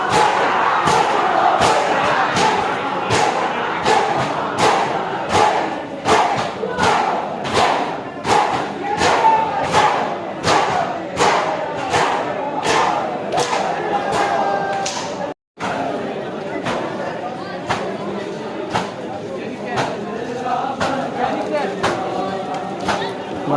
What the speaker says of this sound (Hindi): यहाँ पे भीड़ लगी हुई है।